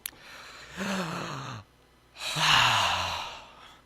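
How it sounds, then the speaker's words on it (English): Two long, deep breaths taken in unison by a group, each a drawn-out breathy inhale and exhale separated by a short pause, fairly close and clear. "let's take one giant breath together"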